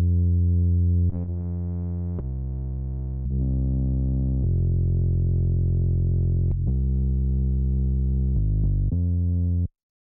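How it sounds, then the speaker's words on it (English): A bass run through a distortion plugin plays sustained, heavily distorted, buzzing notes in a slow sequence, loud and harmonically rich, with brief pauses between phrases and no talking. "Great distortion plugin, you can really do a lot with it."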